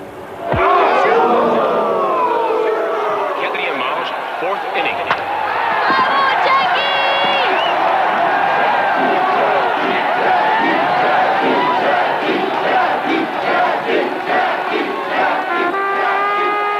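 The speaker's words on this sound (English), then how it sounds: "Record numbers of cheering Montrealers helped Jackie Robinson break baseball's color bar that year" A large crowd roars and cheers at a baseball game in Montreal, a dense, sustained wash of voices with shouts and whistles rising above it, loud and continuous throughout.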